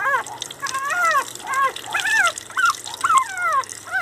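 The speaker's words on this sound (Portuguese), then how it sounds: "a gente tá dando banho em água fria" A young Pinscher puppy, about a month old, whines and yelps in repeated high squeals during a bath in cold water, with faint dripping and trickling underneath.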